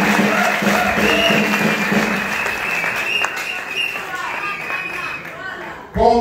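A crowd applauds warmly at a political membership ceremony in Congo, steady clapping filling the room while a voice speaks over it, the applause easing near the end before a loud burst.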